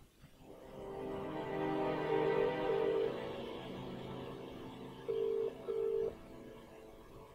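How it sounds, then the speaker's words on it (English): Phone dialing and ringback from the video game Contradiction, with a steady tone running through the clip and two short, louder beeps near the end, heard alone with no talk. "let's go make a phone call then"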